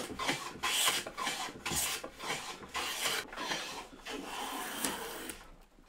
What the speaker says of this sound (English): So I'm just going to take a few shavings.